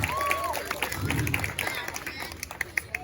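At a Balinese comedy show, an audience claps for young musicians, scattered and moderately loud, while a voice speaks over the applause.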